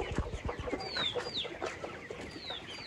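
Farm chickens clucking in a mixed, busy chorus, with a few sharper calls standing out over a steady bed of poultry noise, close and continuous.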